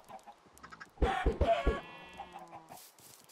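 Minecraft chicken clucking: a quick cluster of four or five close, loud clucks in the middle, with quieter game ambience around it.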